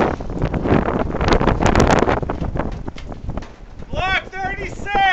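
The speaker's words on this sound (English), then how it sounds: "This is 50-mile-an-hour Alaska winds" Strong 50 mph Alaska wind at a shooting range, heavy gusty buffeting on the microphone that surges and eases, with people talking over it near the end.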